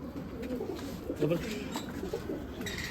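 A pigeon coos softly and repeatedly on a rooftop pigeon loft, the low throaty calls close and fairly quiet, with faint background noise and no clear talk over it.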